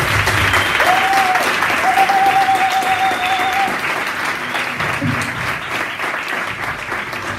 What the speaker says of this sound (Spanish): Un aplauso para Irene de Supervioletas